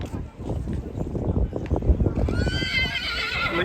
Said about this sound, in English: Literally horses everywhere.